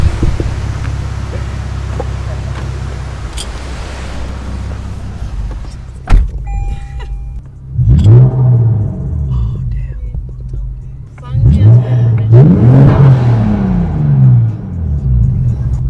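Supercharged Lexus IS engine out on the street, idling low before two strong revving bursts that rise and fall, heard up close, with faint voices in the background.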